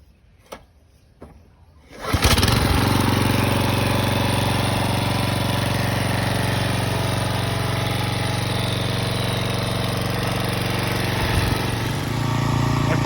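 A Predator Power petrol scarifier is pull-started after a couple of quiet clicks, then its engine catches and runs in a loud, steady, rattling drone close by.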